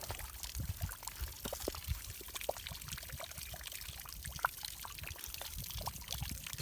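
Clean, sweet water pouring steadily from a turbine well pump at a village near the India–Pakistan border, a continuous close splashing trickle with no talk over it.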